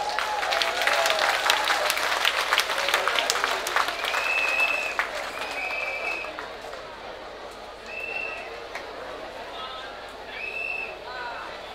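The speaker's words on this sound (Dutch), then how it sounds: "Mag ik een applaus?" Audience applause at a Dutch-language gathering about an oil and gas investment decision, a crowd clapping strongly at first and then thinning out, with faint chirps and murmured voices in the background as it fades.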